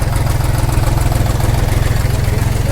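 Tractor engines idle at a farmers' tractor rally, a loud, close, low throbbing rumble with a steady pulsing rhythm and no talk over it.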